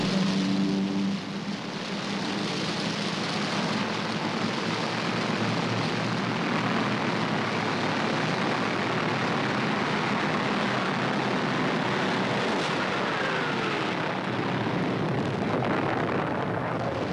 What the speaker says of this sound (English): Aircraft right behind, starboard bows.